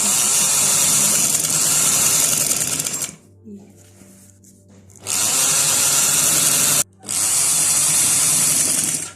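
A sewing machine runs seams on a simple shalwar in steady loud bursts of rapid whirring stitches, stopping twice for short pauses between runs.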